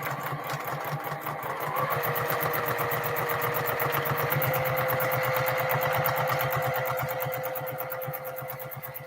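Sewing machine quilting a tote bag, a fast even mechanical chatter of the needle running steadily near at hand, with a whirring motor tone beneath that eases slightly toward the end.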